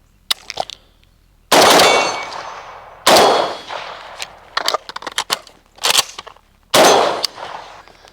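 Rifle shots fired at roughly 35 to 40 yards with a dogleg dust cover fitted: a few loud, sharp reports spaced apart with pauses, mixed with metallic clanks of a transition and reload between them.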